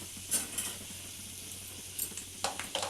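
Garlic frying in a small amount of oil for a tempering for spinach dal, heard as a few sparse, crisp sizzling crackles over a low steady hum, close by.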